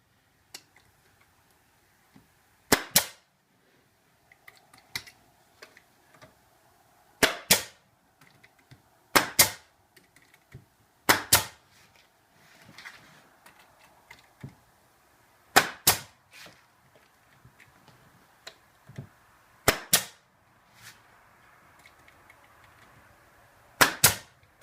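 A nail gun fires nails into a flat-pack speaker cabinet, about ten sharp snapping shots spaced irregularly a few seconds apart, with quiet handling noises between them.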